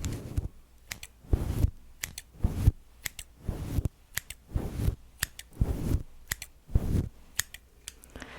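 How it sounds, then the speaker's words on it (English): Close, crisp snips of scissors, about a dozen sharp cuts in a steady irregular rhythm, with no one talking. "And I also have a bigger pair of scissors."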